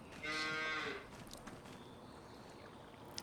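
A cow moos once, loud and drawn out for under a second, in the dairy barn of Farming Simulator 25 on Rottumer Island, followed by quiet barn ambience.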